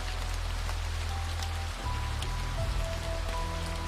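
Steady rain falls on a surface, a dense, even hiss of raindrops continuing throughout with a low hum underneath and no voices.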